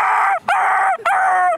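A person imitates a dog crying, voicing two or three drawn-out whining howls in quick succession with brief breaks between them, loud and close with no other sound around.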